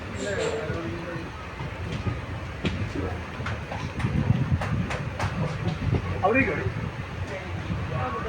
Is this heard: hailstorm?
no